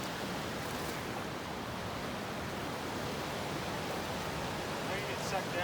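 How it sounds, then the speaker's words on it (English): Steady broadband rush of a waterfall on a creek, continuous and fairly close, with no distinct pauses or other sounds standing out. "It looks like at the bottom there's a waterfall."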